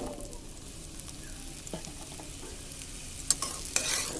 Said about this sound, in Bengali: পেঁপেটাকেও আমি হালকা করে ভাজবো, বেশি কড়া করে ভাজবো না।